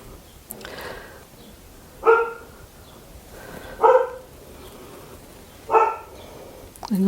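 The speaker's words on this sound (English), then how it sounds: "Excuse my dog barking." A dog barks three times at spaced intervals, each a short sharp bark from a little distance, with quiet room noise between.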